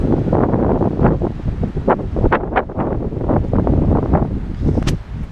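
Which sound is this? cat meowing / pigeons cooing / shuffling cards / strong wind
strong wind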